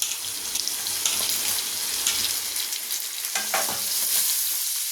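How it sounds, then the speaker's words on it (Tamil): Onions frying in a pan for a restaurant-style crab fry make a loud, steady hiss with occasional stirring clinks near the end. No one talks. "வெங்காயம் நல்லா ஃப்ரை ஆகணும்."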